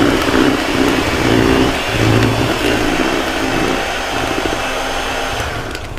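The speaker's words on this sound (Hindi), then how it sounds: "फिर हल्का लो स्पीड पे बीटर चलाना है" An electric beater whirs steadily at low speed through chocolate sponge batter, a loud close motor hum with slight dips as it moves through the bowl.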